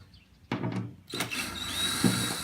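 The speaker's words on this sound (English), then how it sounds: "So I'm going to pull these screws out. It's a T20 star." A power driver backs T20 Torx screws out of a car's interior liner: short whirring bursts of the tool, close and fairly loud, alone with no talk.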